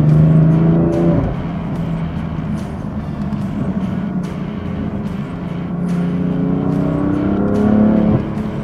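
A car accelerates hard on a test drive, its loud engine note climbing and dropping through gear changes, heard steadily from inside the cabin.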